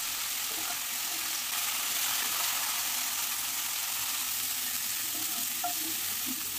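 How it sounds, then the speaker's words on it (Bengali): Cauliflower florets frying in a small amount of oil over a medium gas flame until reddish-brown, giving a steady, even sizzle that holds at constant loudness throughout, with no talking. "গ্যাসের ফ্লেমটাকে মিডিয়ামে রেখে একেবারে লালচে করে ফুলকপিগুলোকে ভেজে নিচ্ছি।"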